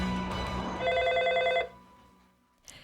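A telephone bell rings with a bright electronic trill for under a second, then fades, with background noise before it and a brief knock at the end.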